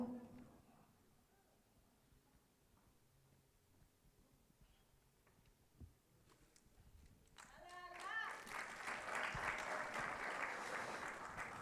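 An audience at a compliance management workshop breaks into applause after a quiet stretch, the clapping building from about eight seconds and continuing steady and fairly close to the end.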